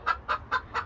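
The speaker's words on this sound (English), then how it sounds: "Oh, the chickens are awake." Backyard chickens just awake give four quick, evenly spaced clucks, close and clear, in under a second.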